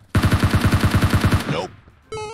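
Rapid automatic gunfire in a video game shoots at a pot: a dozen or so loud, evenly spaced shots in a quick burst, then a short fading tail and a brief tonal game sound.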